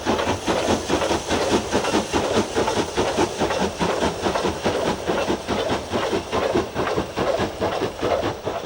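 An 8F steam locomotive hauls a freight train up a fell climb in summer 1965, its loud, rhythmic exhaust beats pounding steadily and close with hissing steam and no voices.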